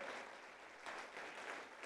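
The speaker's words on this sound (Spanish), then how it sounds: "Apláudale fuerte al Señor." Church congregation applauding steadily, a dense wash of many hands clapping in a reverberant hall, fairly faint and continuous with slight swells.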